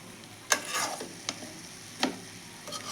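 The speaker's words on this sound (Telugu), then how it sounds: "బాగా పీసుకు పట్టేట్లుగా కొంచెం కలుపుకోవాలండి." Fish pieces being tossed and mixed with chilli powder for frying make a few soft, wet stirring scrapes and light clicks spaced irregularly, close and fairly quiet with no talk.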